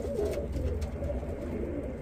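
Several flying pigeons coo in low, soft, steady murmurs, close by, with no voices.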